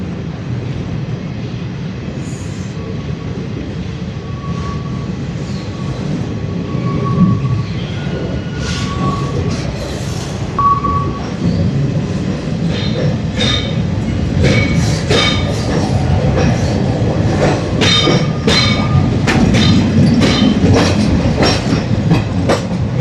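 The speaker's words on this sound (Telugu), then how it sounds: "ఇక్కడ స్టాపింగ్ లేదు, బండి స్లోగా పోతుంది." A passenger train runs slowly along the hilly Visakhapatnam to Araku line, its wheels rumbling and clattering steadily up close with rhythmic clicks over the rail joints and occasional metallic squeals.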